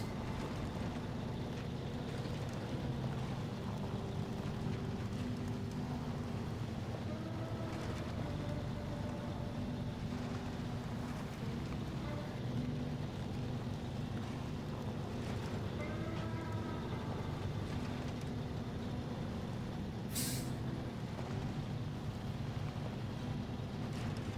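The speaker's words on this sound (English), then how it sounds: "She's moving. This Fleet Star is a really damn good truck." A Fleet Star truck in SnowRunner drives through a river in Alaska on hard mode, its faint, steady engine drone mixed with rushing, splashing water and wind-like noise.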